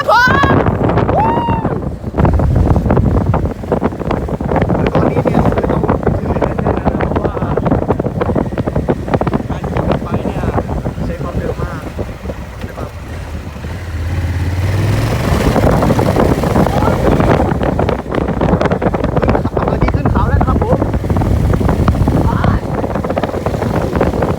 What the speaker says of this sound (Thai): ตอนนี้ก็มาอยู่บนบิ๊กไบค์แล้ว เดี๋ยวพาไปทัวร์กัน